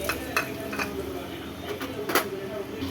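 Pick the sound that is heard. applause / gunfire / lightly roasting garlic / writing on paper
lightly roasting garlic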